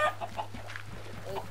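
Several short clucks from chickens in the Minecraft video game, coming in quick uneven bursts over a steady low hum, fairly close and clear, with no talking.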